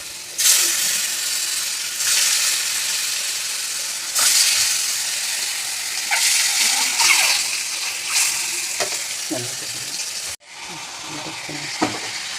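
Eggs dropped into hot oil with salt and turmeric sizzle loudly at close range, with bursts of frying hiss rising and easing, stirring clatter and a sudden cut near the end.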